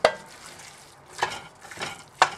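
Ground meat being chopped and stirred as it browns in a pan for spaghetti sauce: soft sizzle underneath with a few sharp scrapes and clanks of a utensil against the pan, close up.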